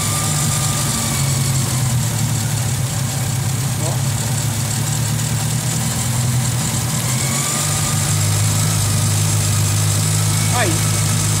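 A Ford Del Rey engine idles steadily with a rough, uneven exhaust note, a loud low drone running throughout while someone talks over it.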